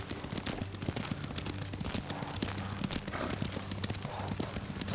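A horse's hooves clip-clop in a fast, steady gallop during riding in the video game Ghost of Tsushima, loud and continuous, with faint game sounds underneath.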